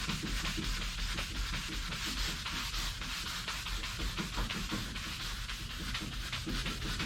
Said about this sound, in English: have a piece of sandpaper wrapped around it here, and I'm trying to use that to sand the sides of these strakes here